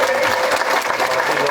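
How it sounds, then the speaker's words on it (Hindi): Steady, full applause from party workers at a Congress rally in Bhadra, welcoming a guest onto the stage as a continuous wash of clapping with a faint crowd murmur underneath. "जोरदार तालियों के साथ स्वागत करें।"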